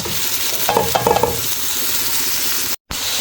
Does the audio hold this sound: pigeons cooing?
no